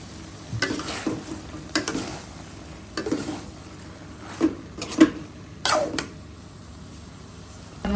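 Taro stems and vegetables sautéing in a pan, a low sizzle under repeated scraping stirs that come in short bursts every second or so.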